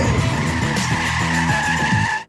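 A car skids through a full 180-degree turn on a closed training course, tires squealing loudly and continuously over a revving engine, the sound cutting off abruptly at the end.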